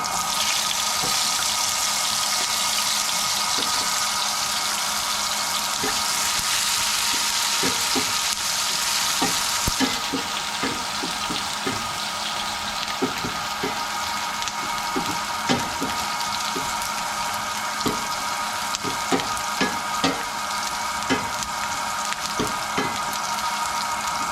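Onions for ginisang sardinas sauté in a frying pan with a steady, bright sizzle, punctuated by frequent small clicks and pops of stirring and spattering, close and continuous with no talk.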